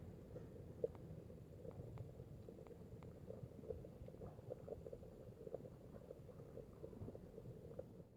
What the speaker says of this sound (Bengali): জলটা এখন ফুটে উঠেছে।